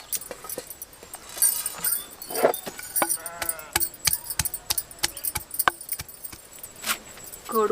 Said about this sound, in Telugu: ఇప్పుడు మనం అల్లం ఎల్లిగడ్డ దంచుకుందాం